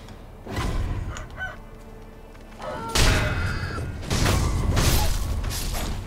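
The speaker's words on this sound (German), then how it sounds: "Ist das ein Hahn?" A rooster crows in the game Sekiro: Shadows Die Twice, a couple of bright calls rising over clattering mechanical game noise and bursts of impact, fairly near and loud.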